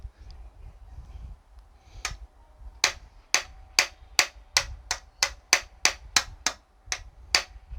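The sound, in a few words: hammering a high fret wire on a guitar neck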